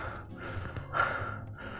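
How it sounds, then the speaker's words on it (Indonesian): A person acts out breathlessness with a run of short, sharp gasping breaths and sighing exhales, close and fairly loud, with no talking. "Jadi kalau kamu ngap-ngapan tuh rasanya kayak gini."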